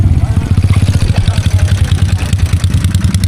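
Motorcycle engines running close by, a loud, steady, rapid pulsing putter that fills the whole stretch, with general outdoor rumble and no clear talking.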